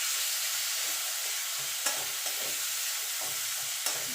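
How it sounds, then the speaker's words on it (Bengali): Tomato frying in a pan with ginger paste for vegetable dal sizzles in a steady hiss, while a spoon scrapes and stirs through it with a few sharp clicks. "টমেটোটা গলা পর্যন্ত এটা নাড়াচাড়া করবো"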